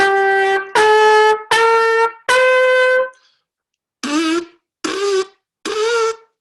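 Trumpet buzzed through pressed lips with no air support: seven short, thin, reedy blasts, the first four steady and bright, then a pause and three wavering, strained ones, close and fairly loud.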